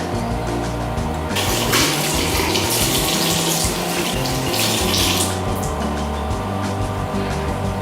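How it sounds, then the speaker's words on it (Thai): Tap water runs steadily into a sink while a face is washed, a loud continuous splashing hiss that thickens briefly in the middle as hands move through the stream, heard close with no talking. "เราก็ล้างหน้า มีจะล้างออกจากบริเวณหน้าอย่างนี้นะคะ"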